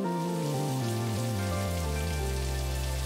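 Steady, dense rain in the video game Necrobarista hisses continuously over a low droning tone that steps downward in pitch, filling the whole stretch without pause.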